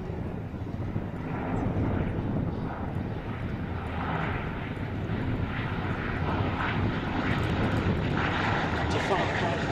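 A vintage propeller aircraft flies at the Shuttleworth airshow, its engine drone steady and moderately distant throughout, with a commentator talking over it.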